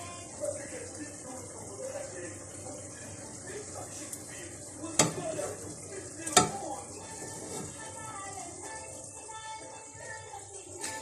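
Pumpkin and carrots sizzle steadily in a cooking pot as they are stirred, giving a constant frying hiss with a few sharp scraping knocks of the utensil and a voice at times.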